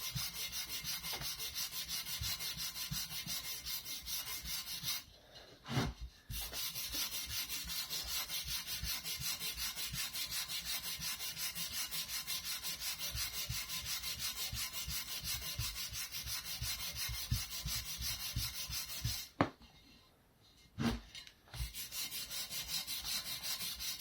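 A Scotch-Brite pad with WD-40 scrubs the inside of a wheel rim in brisk, continuous rubbing strokes, close and fairly quiet, pausing briefly twice.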